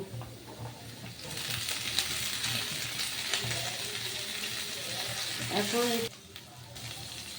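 Vegetables being stir-fried in a pan for a Chinese-style chicken onion dish, giving a steady, fairly close broadband sizzle with stirring clatter throughout and a brief dip near the end.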